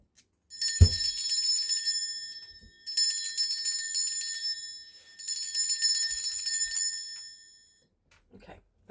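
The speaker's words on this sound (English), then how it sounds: "I'm going to ring a bell." A bell rung to cleanse a space sounds three times, each strike ringing out bright and sustained for about two seconds before fading, close and fairly loud, with a few soft knocks afterward.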